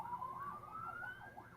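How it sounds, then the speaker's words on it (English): An ambulance siren wails in the background, its rising and falling tone sweeping steadily while a steady rumble sits underneath. "And not by ambulance, if you can hear that in the background."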